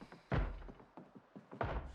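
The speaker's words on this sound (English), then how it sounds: "I think they're banging on a door." Zombies pounding on a door in the video game Project Zomboid, heavy dull thumps in an irregular run of a few blows, fairly close and alone without talk.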